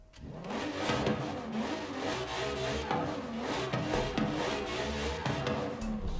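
A Lamborghini Aventador Ultimae engine in Forza Horizon 5 drones steadily with rising and falling revs, a continuous mid-pitched hum that never cuts out, heard fairly faintly.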